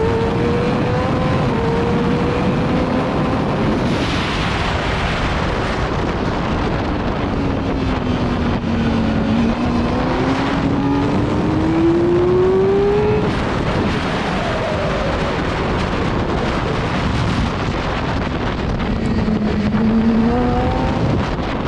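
A racing motorcycle engine on the Wild Horse Pass West track in an ASMA race revs and accelerates through the gears, its pitch rising and falling under heavy wind roar, loud and continuous from onboard.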